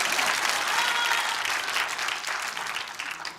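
Audience applause welcoming a speaker to the stage at a Korean political rally, steady dense clapping from a crowd, fairly close and sustained throughout without letup.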